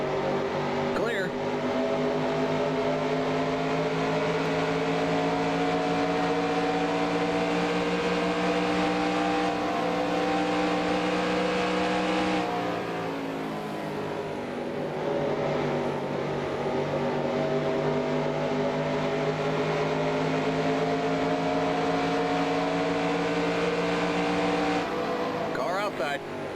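Sustained high-revving race car engine drone with layered harmonics from a 1992 Winston Cup race at Pocono in NASCAR Racing 2003, loud and steady with a brief dip mid-way as other cars pass, spotter talk heard over it.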